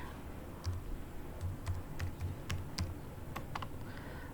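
Someone types an SQL query on a computer keyboard, producing soft, close, irregular clicks of individual keys over a faint background hiss.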